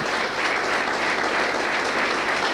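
A church congregation breaks into dense, sustained applause, many hands clapping steadily and evenly for a couple of seconds with no break and no speech over it.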